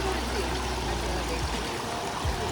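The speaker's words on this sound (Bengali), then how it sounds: "জলটা কিন্তু একটা পাহাড় থেকে আসছে, তাই জলটা কিন্তু বেশ ঠান্ডা।" Cold, mountain-fed river water in Germany flows past in a continuous broad rushing wash with light gurgles, close and steady throughout.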